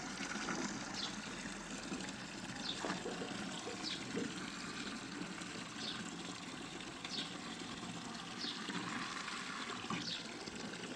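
Water poured from a jug into a container, filling it past the halfway point outdoors at a garden with chickens: a continuous faint gushing pour with soft splashing and occasional clinks, steady throughout with no talk.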